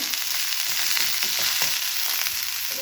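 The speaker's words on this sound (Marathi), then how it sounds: "तर चला आपण तेलामध्ये मस्त असा परतून घेऊया" Shredded cabbage fries in hot oil while being stirred, a continuous close sizzle with soft scraping strokes at irregular intervals and no voices.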